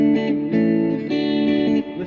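A few short strummed acoustic guitar chords in a steady chorus pattern from a song, clean and close, with brief gaps between strokes.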